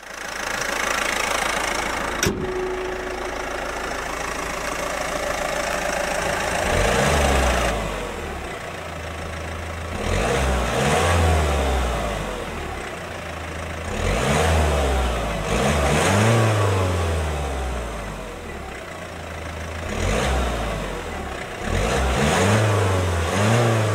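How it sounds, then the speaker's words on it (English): 2017 Opel Crossland X diesel engine revving and accelerating on back roads in repeated surges as gears change, with road and interior noise between pulls, close and steady. "we're driving the Crossland X out here on these back roads"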